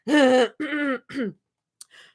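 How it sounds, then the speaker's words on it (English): A person clears their throat in three harsh, rasping bursts, followed by a tiny click and a faint breathy sound. "let me clear my throat as well."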